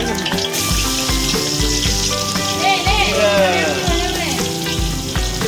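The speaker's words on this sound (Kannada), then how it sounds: "ಮಸಾಲ ರೈಸಿಗೆ ಉಳ್ಳಾಗಡ್ಡಿ ಹಾಕಾಕತ್ತಾರ" Onions frying for masala biryani rice: a constant sizzle and crackle of frying with a steady background tone, a faint voice briefly audible.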